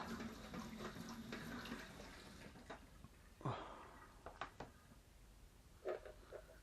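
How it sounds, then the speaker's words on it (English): Water splashing and rinsing grit out of a coin tumbler pot, with soft running and pouring noise, then a few brief sloshes and clunks at close range; no talk. "Wash that grit out."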